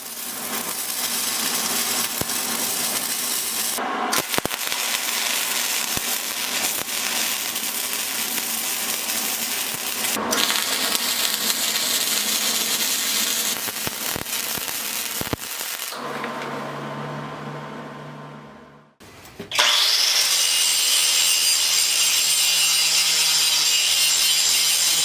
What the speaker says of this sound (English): Welded that in there and I ground that off so it's all solid.